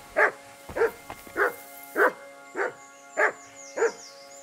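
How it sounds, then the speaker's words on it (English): Mutt the dog in Kingdom Come Deliverance II barks seven times in a steady, evenly spaced rhythm, each bark loud, close and clear, with a faint chime in the background near the end. "Good dog, Mutt."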